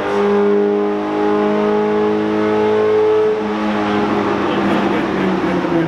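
A 2020 Toyota Supra strained on a chassis dyno, its engine revving loudly and steadily climbing in pitch before dropping off sharply near the end and settling lower.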